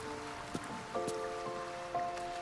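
Rain patters softly and steadily over an outdoor scene in the video game Baldur's Gate 3, a faint wash of drops under sustained musical tones and a few light thumps, with no speech.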